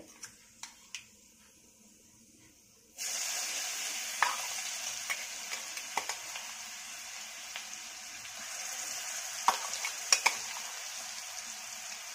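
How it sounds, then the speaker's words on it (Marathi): Near-quiet with a few clicks, then green chilli and garlic paste drops into hot oil for a pumpkin and dal dish. A sudden, steady sizzle follows, with occasional sharp stirring knocks. "आता या तेलामध्ये आपण जे वाटण केलं होतं हिरवी मिरची आणि लसणाचं, ते घालून घ्यायचं।"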